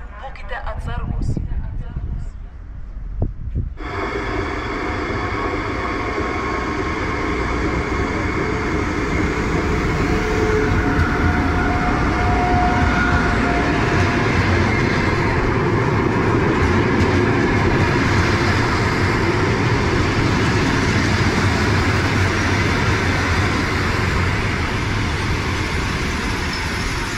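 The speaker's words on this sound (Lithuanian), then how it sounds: "Į Kretingą atvyksta traukinys, būkite atsargus." A train pulls into Kretinga station with a steady, loud rumble of rolling wheels and carriages that builds and then sustains throughout.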